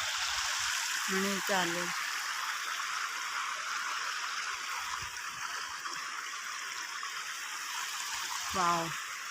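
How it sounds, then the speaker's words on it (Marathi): A waterfall on a stream near the Marleshwar temple makes a steady, broad rush of flowing water, with a couple of short voices cutting in briefly over it. "आम्ही आलो धबधब्यावर पण आणि याच्यात बघा मासे पण आहेत"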